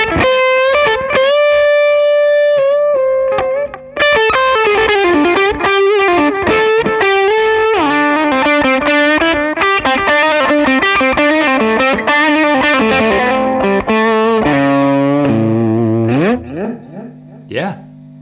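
Electric guitar through a Matchless HC-30 amp with delay added, playing a rock rhythm part of sustained chords and single-note lines with ringing repeats, loud and continuous with a short break near four seconds.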